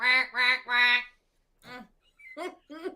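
A person imitates a duck with three loud nasal quacks in quick succession, followed by a pause and a few softer, shorter vocal bursts.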